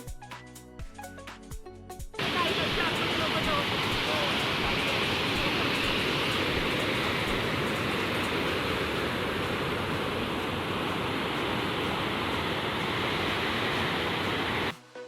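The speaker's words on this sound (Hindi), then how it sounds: "फिर हम पहुंच गए बहुत ही खूबसूरत धुआंधार वाटरफॉल पॉइंट पर" Dhuandhar waterfall at Bhedaghat roars as a dense, continuous rush of falling water, loud and steady after a short quieter lead-in with faint clicks.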